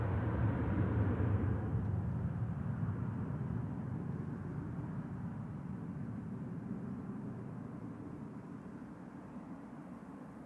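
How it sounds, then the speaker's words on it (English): A Ryanair Boeing 737-800 departs Manchester Airport, its engines a distant, low rumbling roar that is strongest at first and slowly fades. "Ryanair 3216 to Milan, 9H QAB 737-800 departing."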